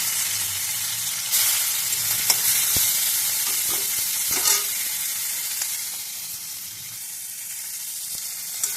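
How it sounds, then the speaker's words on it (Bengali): Steady loud sizzling of onion and shrimp frying in oil in a hot pan, with occasional stirring scrapes and clicks, no talking. "পেঁয়াজ আর চিংড়ি মাছ ভাজা ভাজা হয়ে গেছে।"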